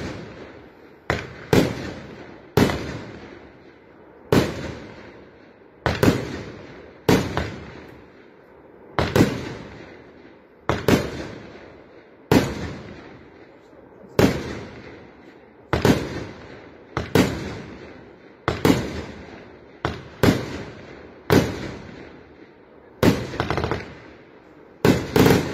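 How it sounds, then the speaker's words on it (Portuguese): A titanium firework battery cake with 49 shots of 30mm calibre fires a steady, evenly spaced series of sharp, loud bangs, each trailing off with crackle, continuing for about twenty-five seconds outdoors. "esta boeda grande de titânio, uma bateria só de estouro, tem 49 disparos, 30mm de calibre"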